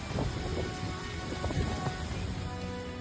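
Heavy rain pours down with low rumbling thunder and gusting wind in a fierce storm over Honolulu, a dense, loud roar with rolling low booms and no voices.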